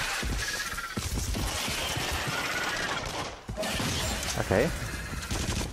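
Rapid gunfire bursts in the VR shooter game Until Dawn: Rush of Blood, dense and continuous with crashing impacts, while a voice speaks briefly.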